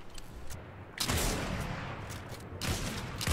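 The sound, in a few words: gunfire in the video game Fortnite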